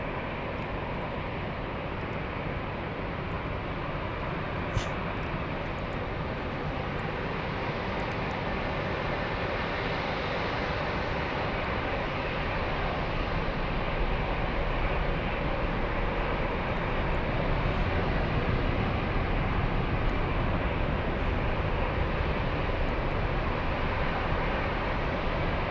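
A Boeing 747-8 roars down Frankfurt's runway 18 and lifts off, a broad, sustained jet engine rumble heard from a distance, steady and slowly swelling, with no voices.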